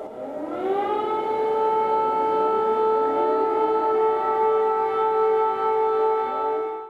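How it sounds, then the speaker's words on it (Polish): An air raid siren wailing over Kyiv, rising at the start and then holding a loud, steady, sustained tone that carries across the city before cutting off. "Syrena alarmowa."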